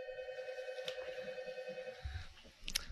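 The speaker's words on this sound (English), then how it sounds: "That's our phone ringing." A home telephone rings quietly in the background as people watch a film, one steady electronic ring lasting about two seconds before it cuts off, then faint shuffling.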